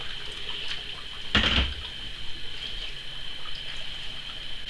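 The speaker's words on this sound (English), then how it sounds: "now I'm just going to mix in the boiling water" Boiling water pours steadily into a container close by with a faint hissing stream, starting with a brief louder splash.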